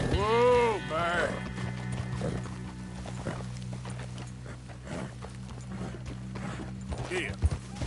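Horse hooves galloping in a PS4 video game, steady rhythmic clip-clop under a voice, opening with a loud neigh, hoofbeats continuing at moderate volume.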